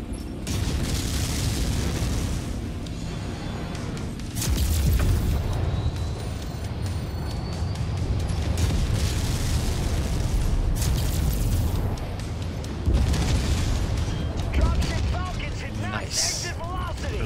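Heavy, booming blasts as a mech's reactor explodes in MechWarrior 5 combat, with loud rumbling bursts rolling across the whole stretch and someone talking over the din.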